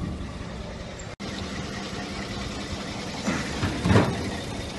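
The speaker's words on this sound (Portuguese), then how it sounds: "Olha a lenta desse motor, Farina." A 1951 original truck engine idles steadily in a low, even rumble, close and alone, with a slight rise in revs near the end.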